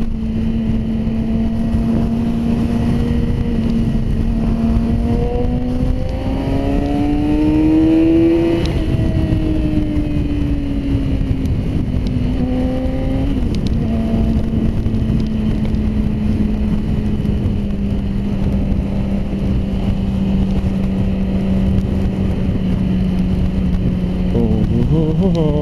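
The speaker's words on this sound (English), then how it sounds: "I love the sound of this little engine. Go, little R6, go!" A Yamaha R6 sport motorcycle rides through traffic, its close, loud engine droning steadily and shifting pitch up and down as it eases along and revs, with no talk over it.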